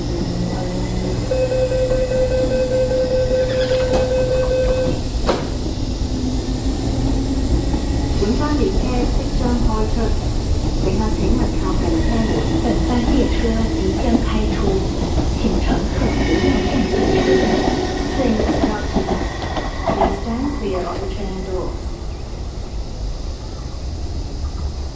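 An MTR East Rail Line MLR electric train at Fanling station in Hong Kong rumbles steadily close by, with a low continuous rolling drone, a brief tonal whine early on and platform announcements audible over it.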